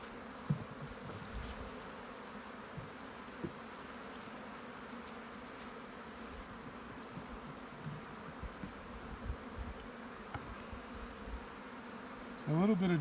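Honey bees buzz steadily around an opened hive, a dense continuous drone close by, with a few louder passes near the end.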